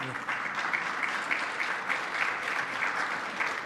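Steady audience applause at a Canadian Club Toronto luncheon, a continuous even wash of many hands clapping, moderately loud and uninterrupted by talk.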